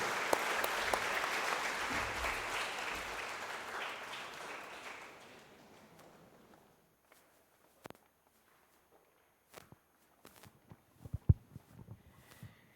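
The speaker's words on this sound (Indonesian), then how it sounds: "kita beri tepuk tangan sekali lagi untuk vokalista Paradiso" Church congregation applauding the vocal group Paradiso at a Sunday evening service, a warm burst of clapping that fades out after about six seconds, followed by quiet room with scattered footsteps and knocks.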